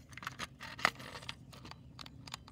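An off-brand Nintendo Switch Pro controller's buttons are pressed, giving a scattered series of short, dry clicks and scratchy taps at close range over faint background noise.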